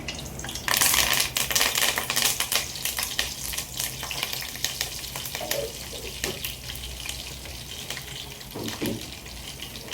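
Curry leaves crackle and spit as they hit hot oil for a pumpkin pulusu, a loud burst of sizzling that settles into steady frying with scattered pops, close by and without voices.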